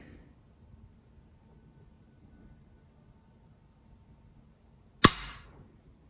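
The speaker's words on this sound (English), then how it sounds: "This is how the trigger works." The trigger of a Grand Power Freya R15 pistol is pulled once after near silence, giving a single sharp, close mechanical snap with a brief metallic ring.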